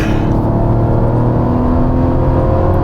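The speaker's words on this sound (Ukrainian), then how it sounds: "Зрозуміло, що це 6 циліндрів. Зрозуміло, що це великий двигун" A large six-cylinder engine in a Mazda CX-60 crossover hums and revs steadily up close, a deep continuous drone with a smooth, throaty tone and no voices.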